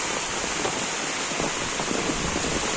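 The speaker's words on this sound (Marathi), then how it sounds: "पाहू शकता तुम्ही काय तुफान पाऊस आलेला आहे पाऊस काय थांबत नाही" Heavy, steady downpour in the Konkan countryside, a dense unbroken hiss of rain with no talk over it.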